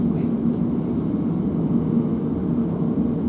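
Low, steady rumble and rushing hum inside a TfL Rail Class 345 train as it slows on approach to Ealing Broadway, a continuous drone with faint faster tonal whine, no talking over it.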